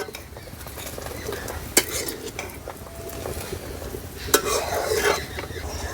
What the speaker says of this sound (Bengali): দুধটা ফুটে উঠেছে, এবার অনবরত নাড়তে হবে।